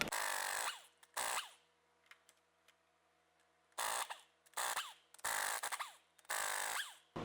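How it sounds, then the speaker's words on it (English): Impact or power tool with a thick-walled 21 mm socket spins lug nuts off a Ford Super Duty wheel in a shop, sounding in several loud bursts of whirring and rattling separated by pauses. "now I'm going to come back with a thick walled 21 and remove the rest of the lug nuts"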